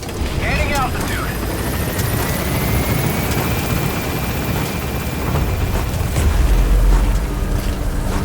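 Helicopter in Metal Gear Solid V gaining altitude, a steady loud rotor thrum and whine with deep rumble swelling toward the end; a voice speaks briefly over it.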